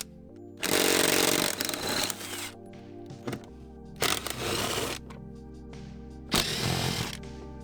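Power tool whirring in three loud bursts with pauses between, as an impact-style driver loosens the four 12 mm bolts holding a Honda Civic seat in place.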